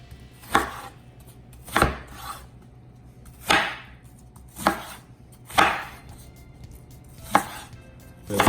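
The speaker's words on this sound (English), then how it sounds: "Cut the onion just in small cubes." Onion being cut into small cubes for Iraqi Adana kebab, heard as six sharp, evenly spaced knife chops on a board, close and crisp, with quiet gaps between strikes and no talk.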